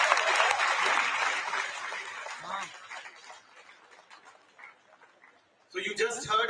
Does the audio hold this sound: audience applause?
yes